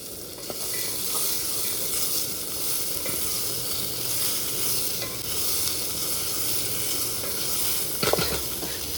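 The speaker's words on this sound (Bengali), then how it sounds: "এবার সুন্দর করে ভেজে নেব। তো এবার দিয়ে দেবো কাঁচা বাদাম।" Raw peanuts fry in a hot pan with salt, a steady dense sizzle running throughout with occasional stirring scrapes and a sharper clatter near the end, close and alone.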